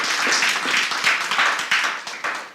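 A brief burst of clapping from a small audience at a Marine Fisheries Commission public meeting, close and fairly loud, thinning into a few scattered claps as it dies away.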